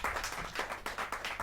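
A kavi sammelan audience claps for poets in quick, fairly regular rhythm, each sharp clap close and bright, with a steady low hum underneath and no voices.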